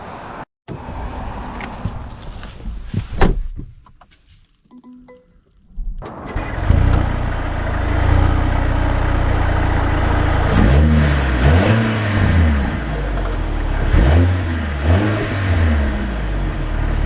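A 2024 Mercedes-AMG GLA 35 fires up after a few seconds of quiet handling noise, then settles into a loud, close engine note with several rising revs near the end.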